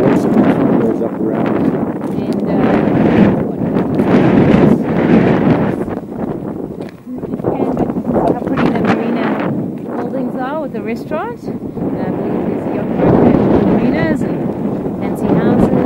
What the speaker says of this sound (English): I'm pretty sure the wind is coming from Canada or whatever.